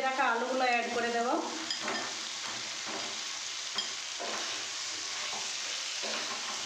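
Fried potatoes stirred into tomato, chili and soy sauces in a hot pan for chili garlic potato, giving a continuous close sizzle with soft stirring scrapes; a brief voice-like tonal sound opens the stretch.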